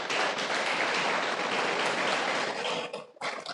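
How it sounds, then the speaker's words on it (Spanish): A church congregation at a Spanish-language family worship service claps loudly and continuously, a dense crowd applause that briefly dips near the end before swelling again. "Denle un fuerte aplauso a Dios."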